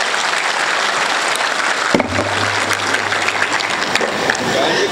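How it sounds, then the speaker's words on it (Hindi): Loud, dense applause from a large audience at a Hindi poetry recital, a steady wash of clapping that runs through the whole stretch with a brief dip midway. "तो एक बार ताली बजाओ जोर से।"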